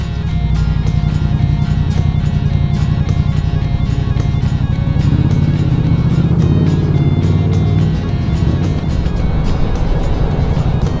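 A motorcycle rides along small back roads, its engine droning loud and close in a steady rhythm, with the revs rising and falling slightly throughout.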